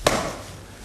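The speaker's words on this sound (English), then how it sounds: "See how you can do it fairly softly and still get that thwacking sound." A single sharp thwack from a Bagua palm strike, one crisp slap at the start that decays quickly into room ambience, moderately loud and alone.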